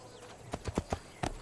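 A horse's hooves clop in the video game Assassin's Creed II, a short run of quiet, evenly spaced hoofbeats picking up pace.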